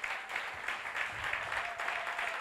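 Church congregation clapping in praise of the Lord during an evangelism campaign, a quiet, somewhat distant patter of many hands in uneven bursts with no talking.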